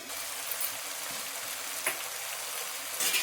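Sorrel leaves and brinjal sautéing in a pan for a Tamil-style kadaiyal, a soft continuous sizzle and crackle with a few faint stirring clinks, fairly quiet and close, no talking.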